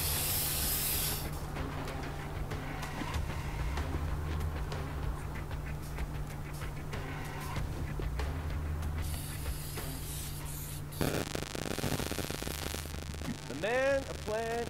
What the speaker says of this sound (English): Don't mind me, just a little bit of graffiti.